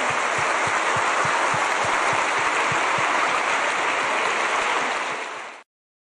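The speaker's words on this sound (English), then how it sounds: "Round of applause." Sustained, dense applause from a conference audience for presenters at a session, steady and loud for several seconds before cutting off abruptly.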